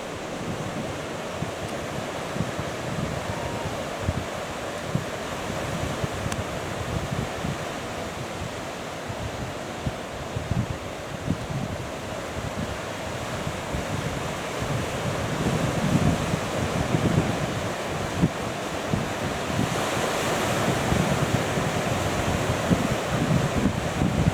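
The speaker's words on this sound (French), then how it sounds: "Les vagues sont un peu plus hautes, là. C'est un peu plus venteux." Atlantic waves break and wash steadily along Madeira's rugged north coast, with a strong wind buffeting the microphone in a constant roar that swells louder toward the end; no voices are heard.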